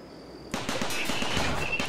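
Powered turret firing in the RimWorld video game: a rapid burst of close, loud gunfire crackles continuously after a short quiet lead-in, with sharp repeated shots.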